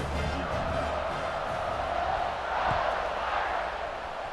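Stadium crowd in EA Sports College Football 26 roars steadily after an extra point, a dense sustained cheer that swells slightly midway and holds at full volume throughout.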